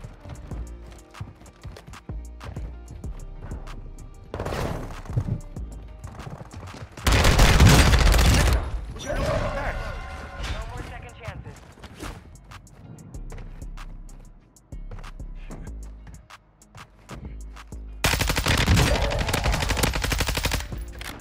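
Lachmann 556 rifle fire with a bipod in Warzone 2, loud rapid bursts of automatic gunfire in several long strings with game effects between, close and dominant.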